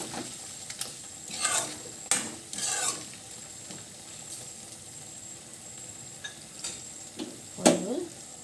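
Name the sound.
stirring chicken frying in a pan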